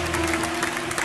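An audience claps in tribute to a departed flamenco singer, a brief, dense burst of applause heard alone.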